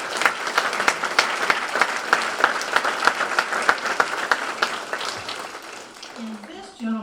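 Audience applause at an outdoor plaza bicentennial concert, dense rhythmic clapping from a crowd lasting several seconds, then fading as a voice begins speaking.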